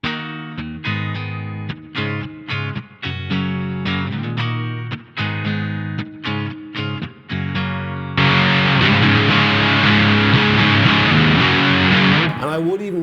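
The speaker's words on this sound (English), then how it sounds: "that big, heavy, thick distortion sound." An electric guitar played through a T-Rex Dr Swamp distortion pedal gives heavy, thick, grungy distortion: a run of choppy, rhythmic chord stabs, then one loud sustained chord ringing out on its own.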